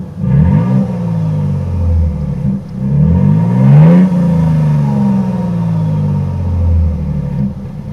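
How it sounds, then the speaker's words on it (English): A 2023 Toyota Sequoia TRD Pro with a V6 and TRD exhaust revs repeatedly, its loud, deep exhaust rumble rising and falling in several swells up close, with no talking. "We have the TRD exhaust on the TRD Pro, and if I'm being completely honest, for it being a V6, it sounds pretty freaking good."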